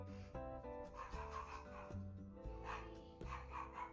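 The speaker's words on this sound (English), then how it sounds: "She just barks at people that live in the house." Wendy, a house dog, lets out a few sharp barks at intervals over steady background music.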